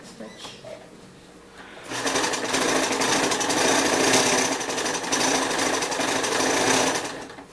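A sewing machine runs a quick stitch across a fabric band for an off-the-shoulder dress, starting after a quiet moment and then whirring loud and steady, close by, for several seconds without talk.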